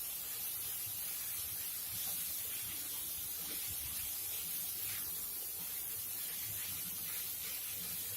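Fresh methi leaves sizzle in a hot pan, a soft continuous hiss and faint crackle, steady and fairly quiet with no talk.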